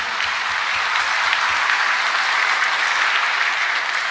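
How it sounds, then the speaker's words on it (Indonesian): Steady audience applause at a talk in Indonesia, dense even clapping from a large crowd sustained at constant loudness throughout. "Tepuk tangan."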